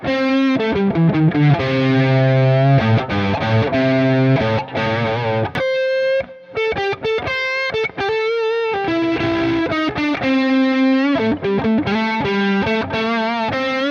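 A loud distorted electric guitar plays a blues lead with quarter-step or smaller pitch bends on sustained notes and abrupt, choked-off phrases.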